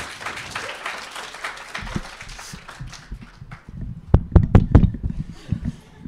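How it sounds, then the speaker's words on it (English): A room audience claps for the speaker Bogdan as he comes up, with scattered clapping early, then a burst of sharp, loud, close claps near the end. "So now this round of applause is for you, Bogdan."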